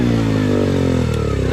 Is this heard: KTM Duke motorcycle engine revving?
yes